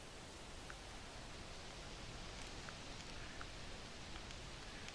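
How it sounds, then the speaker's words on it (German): Steady rain begins in the hunting game theHunter Classic, a dense, even hiss of rainfall with faint scattered drops, continuous and unbroken without any talk. "es fängt an zu regnen, nun höre ich den nicht."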